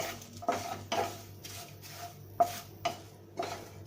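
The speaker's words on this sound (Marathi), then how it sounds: "आपला हा पॅन आहे ना तो गरम आहे आपल्याला एक मिनिट आपल्याला परतून घ्यायचं आहे साहित्य" Whole garam masala spices dry roasting in a hot pan for homemade stone-ground masala, with soft scraping and clinking stirs repeating every half second or so over a low steady background, fairly quiet and close.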